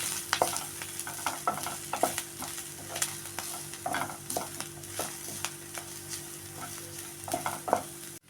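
Shredded cabbage fries in oil in a pan, with a continuous soft sizzle broken by regular scraping stirs of a spoon, close and clear with no talk.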